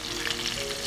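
Onions fry in hot oil in a pot for fish curry, giving a short, dense, steady sizzle heard up close.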